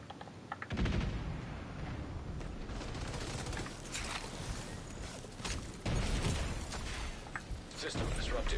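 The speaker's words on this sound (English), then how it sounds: "I'm just gonna spam grenades at that corner" Grenade blasts and heavy gunfire in The Division 2, a sustained barrage of loud booms and rattling shots with several sharp bursts, continuing under a voice.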